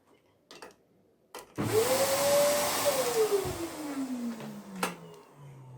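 A household vacuum cleaner is plugged in and switched on after a couple of clunks, its motor whining up to a loud steady roar, then easing lower in pitch as it keeps running close by.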